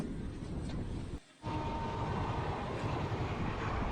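An express train on the Kurnool to Guntur line rumbles steadily along the track with a constant low roar, broken by a brief dip in sound partway through before the roar resumes.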